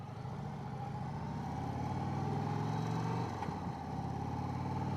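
A 2024 Indian Chieftain Limited motorcycle rolls at an easy cruising pace through a sandy construction zone. Its engine gives a steady, low, rumbling drone that rises slightly for a moment, with wind noise running underneath.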